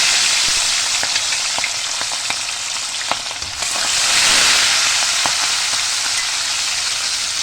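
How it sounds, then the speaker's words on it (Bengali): Hilsa fish frying in mustard oil in a wok, a dense continuous sizzle with occasional small pops and a brief scrape as pieces are turned, swelling louder after the flip. "এবার দেখো আমি একদম এপিট ওপিট করে মাছগুলোকে ভেজে নেব"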